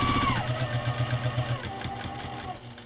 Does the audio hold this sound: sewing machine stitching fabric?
yes